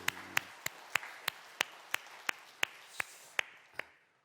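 About a dozen single claps ring out one by one at a steady, even rhythm in a church worship service, sharp and distinct against a quiet, reverberant room, fading out at the end.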